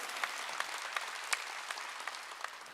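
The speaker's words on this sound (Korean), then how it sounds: "박수야" A church congregation applauds during a sermon, a steady crackle of many hands clapping together at moderate volume, with a few sharper claps standing out, no voices over it.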